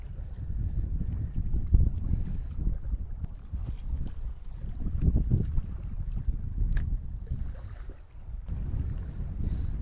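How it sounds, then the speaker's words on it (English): Brisk side wind buffeting the microphone while float fishing for mackerel on the coast in early morning, a steady low rumbling roar with gusty swells and no talk. "Because there's such a brisk side wind"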